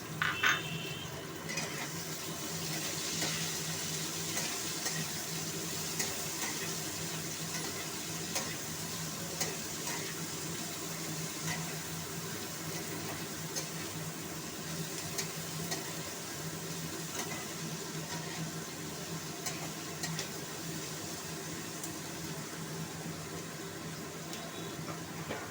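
Onions fry in oil with already-fried potatoes in a pan while cooking chira pulao, a soft steady sizzle with occasional stirring scrapes and light metallic clinks, heard close up and without voices.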